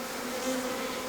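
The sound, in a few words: bees buzzing during beekeeping swarm capture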